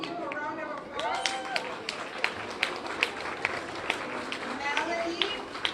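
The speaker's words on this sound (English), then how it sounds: "Can you give a round of applause?" A room of grade school students claps in a round of applause for a classmate, the steady patter of many hands carrying on for several seconds, with voices mixed in.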